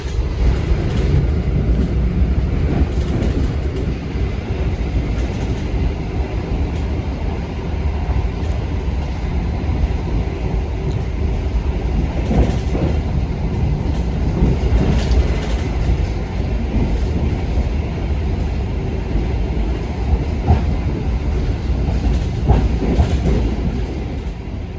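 A steady low rumble fills the inside of an Indonesian passenger train at about 115 km/h, with rhythmic clicking of wheels over rail joints and constant rushing noise.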